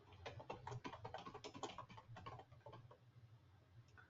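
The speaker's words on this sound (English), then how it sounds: "I get my password typed in" A password is typed on a computer keyboard in a quick, close run of soft key clicks, easing off toward the end.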